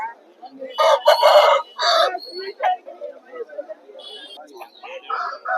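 A Dega-coloured fighting rooster crows loudly nearby, a long strained call, followed by softer clucks and bird calls, at a rooster market in Vijayawada.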